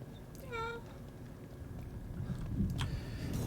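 In the video game The Evil Within 2, a cat gives a single short, clear meow over a steady low rumble of ambient game noise.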